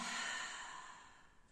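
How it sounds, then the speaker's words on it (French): A long, soft exhale during an abdominal exercise, a breathy hiss that starts strong and fades over about a second and a half, close and alone with no talking. "L'air se met dans le ventre et j'expire, je rentre."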